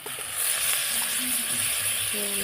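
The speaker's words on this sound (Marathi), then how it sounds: "आता सुकी मांदेली टाकून घेते त्याच्यामध्ये" Dried mandeli fish drop into a hot pan and sizzle, a steady close hiss of frying oil with light stirring noises underneath.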